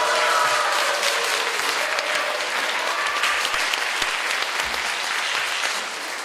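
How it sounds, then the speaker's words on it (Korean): Loud, continuous clapping from a congregation at a church discipleship-training graduation service, dense and even throughout before easing off near the end. "우레와 큰 박수로"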